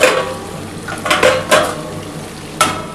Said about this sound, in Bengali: এই ঢাকাটা দিয়েই কিন্তু মাছটা ভাজছি